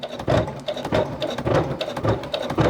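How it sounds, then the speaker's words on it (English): A sewing machine stitching slowly in short, regular bursts of rapid mechanical clatter, close by with no voices. "my sewing machine works with that very well."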